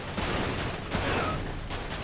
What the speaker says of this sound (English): Machine gun bullets, nice.